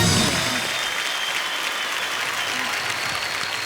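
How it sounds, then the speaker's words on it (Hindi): A studio audience at a Kapil Sharma comedy show applauds loudly and continuously, with dense, even clapping that fades slightly toward the end. "एक बार तालियां बजती रहें।"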